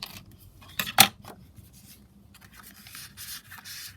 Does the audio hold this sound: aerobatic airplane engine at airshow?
no